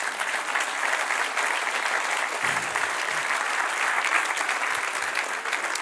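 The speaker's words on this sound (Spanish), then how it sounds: "Aleluya, dale un aplauso." Church congregation at a sermon applauds continuously and evenly, a dense wash of clapping with no break.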